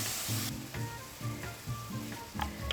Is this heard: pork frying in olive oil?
yes